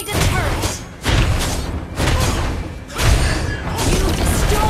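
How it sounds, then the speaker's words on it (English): A turret is destroyed in a video game match, heard as a series of heavy booming thuds and crashes that repeat roughly every second, loud and dense, with other game sounds mixed in. "Your team destroyed a turret."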